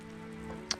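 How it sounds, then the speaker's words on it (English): Rain falls at Highlands Hammock State Park, pattering softly on a surface with a steady low hum beneath and one sharper drop striking near the end. "So, caught in the rain again."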